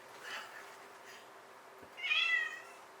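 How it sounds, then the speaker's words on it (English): A pet cat meows insistently to be let outside in a home kitchen, one clear drawn-out meow standing out near the end after faint earlier cries, with quiet room noise and no talk over it. "Cat wants to go out."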